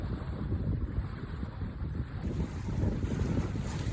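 Evening wind on Yale Lake roars across the microphone aboard a Buccaneer 18 sailboat, a loud steady rumbling gust with water washing underneath, constant and close throughout with no voices.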